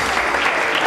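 Guests at a Turkish wedding ceremony keep up a thick, continuous round of applause, loud and close, with no gaps in the clapping.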